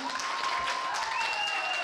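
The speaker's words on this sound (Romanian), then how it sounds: "Aplaudi pentru domnul Brănaru" An audience at a Christmas fair at Casin Monastery applauds after a concert, a steady, dense patter of many hands clapping at a moderate distance, with a faint sustained tone underneath.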